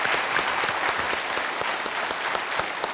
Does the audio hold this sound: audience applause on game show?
yes